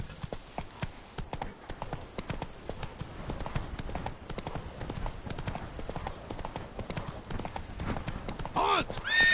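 Roach the horse galloping in The Witcher 3: Blood and Wine, with a steady run of hoof clip-clops close up over game ambience and a brief whinny near the end.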